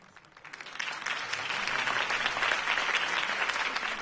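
Crowd at a city political campaign rally breaking into sustained applause after a candidate's speech, swelling in the first half second and then holding steady as dense, close clapping with no voices on top.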